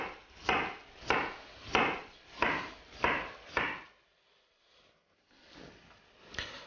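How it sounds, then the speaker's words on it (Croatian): A knife cuts potatoes into thin slices on a board in a home kitchen: six steady, evenly spaced chops, a brief pause, then a couple more cuts, all close and clear with no talking. "Zatim ćemo narezati krumpir na tanke ploške."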